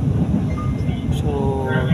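Inside a moving LRT light rail train, a steady low rumble and hum of the carriage runs throughout, with faint screeches and rattles on top, while a voice talks over it.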